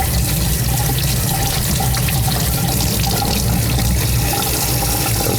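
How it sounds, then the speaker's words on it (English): Running water rinsing a freshwater aquarium part during a tank water change, a steady loud gush and splash like a tap stream striking a sink, constant throughout without any talk. "Rinse that off."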